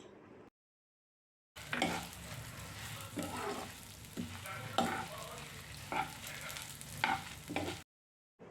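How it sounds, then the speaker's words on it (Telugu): Dry red chillies fry with toor dal in a pan, a close, crackling sizzle broken by repeated scraping stirs, with short silent gaps at the start and end. "ఇప్పుడు ఎండుమిర్చి కూడా వేసుకొని కలిపి వేపుకోవాలి"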